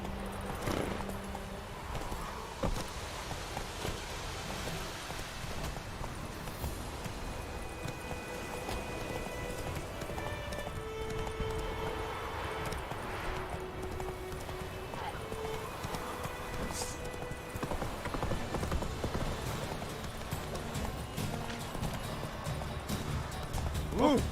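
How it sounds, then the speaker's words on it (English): Horse galloping in a video game, a steady stream of hoofbeats under game sound and a voice, faint and continuous throughout. "Whoa there, Roach. Faster"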